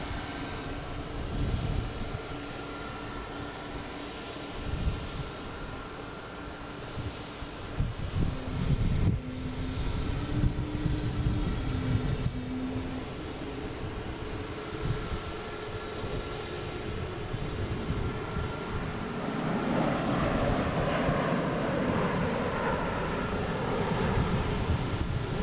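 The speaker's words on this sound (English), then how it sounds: "There comes United from San Francisco, 737 MAX 9." A United Boeing 737 MAX 9 arriving from San Francisco at Boston Logan, its jet engines droning with a steady tone that swells louder toward the end as it draws near.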